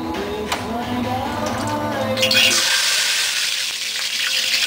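Ranchero sauce poured over a pulled pork chimichanga, a wet, steady hiss and trickle that carries on for several seconds, close by, shifting brighter partway through with no talk over it.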